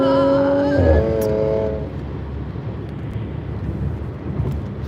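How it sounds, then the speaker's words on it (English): A rising, tonal supercharger whine from an Audi S4 climbs in pitch for about two seconds, then fades into a steady broadband road and engine rush that continues to the end. "That's just the supercharger whining from all this and everything."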